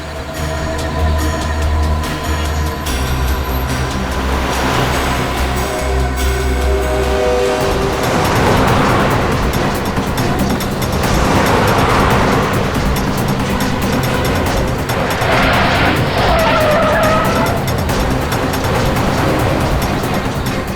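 Cars racing along in a crime-drama chase, a loud steady roar of engines and rushing motion with swelling passes and swooshes over a dense backing score, no clear tire skids standing out.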